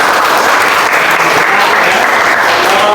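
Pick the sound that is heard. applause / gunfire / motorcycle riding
applause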